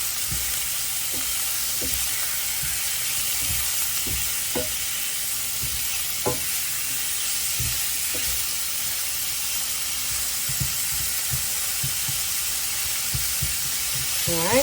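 Meat for a Philly cheesesteak sizzles steadily in a hot pan, a constant crackling hiss broken by scattered soft scraping and tapping of a utensil, with no talking.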